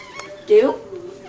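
A single cat meows once, close and fairly loud, a short rising-and-falling call after a brief quieter sound.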